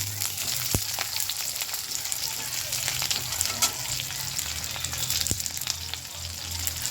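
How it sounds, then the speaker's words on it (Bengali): Garlic frying in hot oil, a steady crackling sizzle with occasional stirring clinks and scrapes from the pan, close and continuous throughout. "আমি রসুনটা দিয়ে দেবো, দিয়ে ভালো করে ভাজবো লাল লাল করে"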